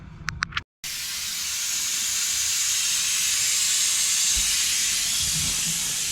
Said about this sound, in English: let's go ahead and suck all the fluid out that we can